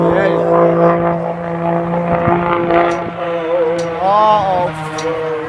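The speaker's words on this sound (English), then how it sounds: "Propeller's breaking the speed of sound." Propeller aircraft flying at a Rhode Island open house air show, a loud steady drone with wavering engine tones under crowd chatter and nearby voices talking.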